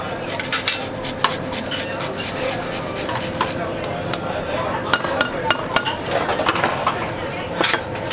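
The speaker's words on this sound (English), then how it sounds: "Some people use the truffle cutter, but I like more with the um, Microplane, and make it like gets more into the puree" Black truffle grated on a Microplane over potato purée in a restaurant kitchen in Oslo, a steady fine rasping with light metallic clinks of pans and utensils, close by over a busy kitchen background.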